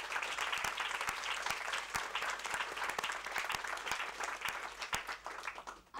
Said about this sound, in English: So can we give him an applause as well?